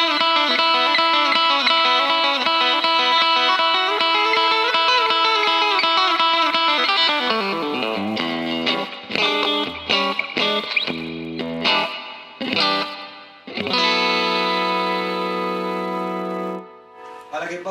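Squier Stratocaster electric guitar, a 1996 Korean 50th anniversary model, played through a clean setting: ringing sustained chords and notes, then choppy strummed stabs with pauses, loud and close.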